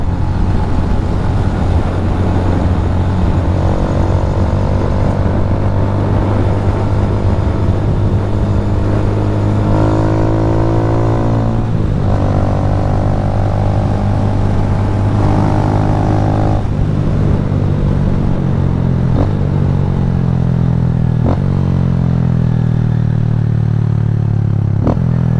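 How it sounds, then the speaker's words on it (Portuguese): Loud, continuous roar of a 160 cc motorcycle with a Fortuna exhaust revving and accelerating, engine pitch climbing and dropping through several gear changes, close and harsh throughout with no talk. "escape fortuna grita muito"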